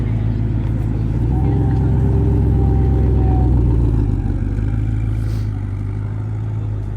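A Koenigsegg Regera hybrid supercar pulls in its single fixed gear with a deep, loud, steady engine drone and a slowly climbing note, heard from inside while someone speaks over it.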